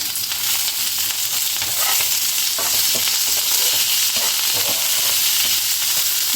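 Curry leaves sizzling in hot tempering oil with crushed garlic, a steady loud crackling hiss throughout with small pops and stirring, no talking.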